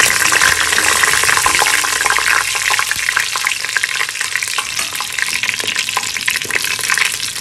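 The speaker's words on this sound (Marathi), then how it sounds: "हे आपण ह्याच्यात टाकून घेऊया फोडणीसाठी" Whole star anise, bay leaf, cinnamon stick, green cardamom, peppercorns and cloves crackle and sizzle in hot oil for chicken biryani, a loud, dense, steady frying hiss with small pops throughout.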